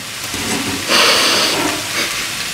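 Bacon and onion sautéing in a pan, a steady sizzle and hiss that swells briefly to a louder burst near the start before settling back to an even, close fry.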